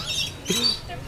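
A bird at the Aquarium of the Pacific gives a short, sharp squawk mid-clip, close and loud, amid chatter from people nearby.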